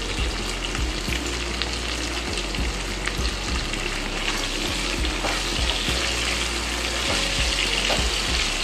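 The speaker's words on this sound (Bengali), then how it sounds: "আমি এর সঙ্গে তেজপাতা আর দুটো কাঁচা লঙ্কা দিয়ে দিচ্ছি ফোড়নে" Bay leaves and green chillies sizzle steadily in hot oil as a tempering for a Bengali fish and taro curry, a close, continuous crackling fry with small bursts of spatter throughout.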